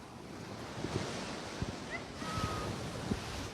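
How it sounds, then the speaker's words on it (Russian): Sea waves and surf roll onto the shore at Ochamchira in Abkhazia. The wash is a soft, steady roar mixed with wind buffeting the microphone, and a few faint thuds come through. "Волны моря, шум прибоя в Очамчире звучат как песня."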